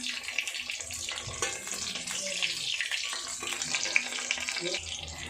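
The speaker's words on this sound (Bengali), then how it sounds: "প্রায় মাছগুলো ভাজা হয়ে গেছে, ভালোই ভাজা হয়ে গেছে" Continuous crackling sizzle of rohu fish frying in hot oil, close and moderately loud, with occasional sharper pops and no talking.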